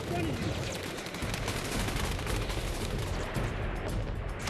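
A battle scene in a war film fills with heavy, continuous gunfire: loud overlapping rifle and machine-gun bursts with no break, and shouted voices faintly mixed in.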